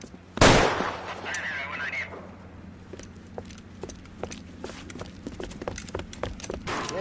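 Gunfire rings out in L.A. Noire during a shootout at a tin shack: one loud close shot, then a run of fainter, sharper shots and impacts scattered irregularly over several seconds.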